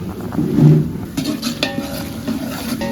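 Onions sautéing in a pan for biryani, with a spoon stirring and scraping through them, a couple of clinks against the metal and a soft, low sizzle underneath, fairly close and steady.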